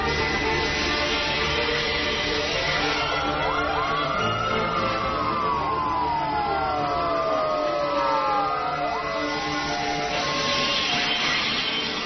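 A fire engine siren wails, its pitch sweeping up and down in long overlapping cycles above a steady mechanical drone.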